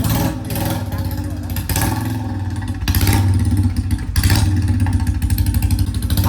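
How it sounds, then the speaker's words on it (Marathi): A Royal Enfield Bullet motorcycle with its silencer sticking out past the tyre thumps in a steady, loud, close rhythm, growing stronger as it moves off, with someone talking over it. "बुलेट काढले आता चाललोय आम्ही"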